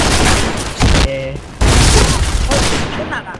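A heavy gun fires in a video game, dense loud bursts of gunfire that pause briefly and resume, with someone talking over the shooting.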